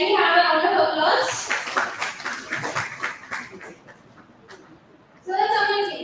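Bursts of clapping from a class audience, loud at the start and again near the end, with talking and some laughter in between.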